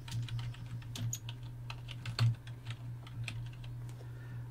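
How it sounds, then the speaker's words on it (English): Quick bursts of keystrokes on a computer keyboard as a search term is typed into the Windows 11 search bar, with crisp clicks in an uneven rhythm over a steady low electrical hum. "I'm going to put my mouse cursor in there and I'm going to type Windows"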